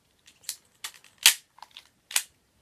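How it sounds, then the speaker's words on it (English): HFC BB gas revolver fired at a cardboard box, several sharp, close snapping shots spaced irregularly, with small clicks and handling noises between them. "I'm just going to shoot the box just to show you"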